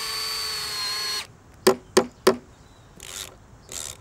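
A power drill drives coach screws into a timber sleeper for a sandpit, a sustained whirring run followed by three sharp short bursts and two softer trailing sounds, close by.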